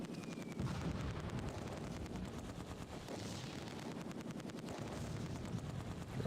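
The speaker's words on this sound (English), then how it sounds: "Dropping mortars right on that farmhouse" Mortar shells pounding a farmhouse in the Close Combat 2 video game, a steady dense rumble of distant explosions and gunfire rolling on throughout, with a sharper burst near the end.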